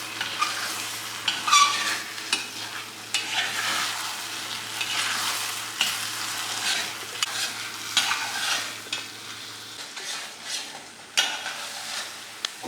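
Wheat for gothambu pradhaman payasam is stirred and roasted in ghee in a pan, with a steady sizzle and repeated scraping stir strokes close by, no talking.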